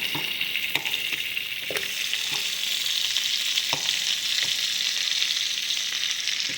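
Lamb rib chops frying in a pan, a bright continuous sizzle with fat crackling and occasional sharp pops and spatters scattered throughout, close and steady with no voices.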